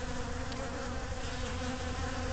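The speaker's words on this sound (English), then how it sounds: "You can probably hear the buzz." Honeybees buzz steadily around a nucleus colony hive drawn by sugar water, a dense, continuous close hum with no voices.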